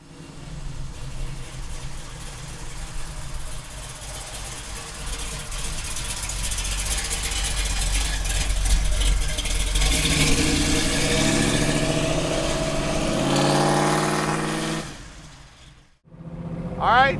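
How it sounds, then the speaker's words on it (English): Big block Chevy V8 in a 1968 Chevrolet Camaro rumbling through its exhaust pipes, a steady deep idle that swells into a louder, rougher roar midway before cutting off sharply near the end. "that big block Chevy sounding good going through those pipes"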